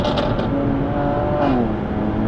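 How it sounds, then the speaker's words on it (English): An Aston Martin V8 Vantage Roadster engine idles and burbles loudly and close, a continuous deep rumble with a couple of slight rising revs and faint creaks. "It makes a lovely V8 noise."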